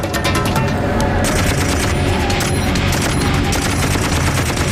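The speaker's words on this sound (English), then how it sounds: "So they turn to the squad's M60 heavy machine gun." An M60 heavy machine gun fires in sustained bursts during a Black Hawk Down battle, loud dense rapid gunfire mixed with further shooting and battle noise throughout.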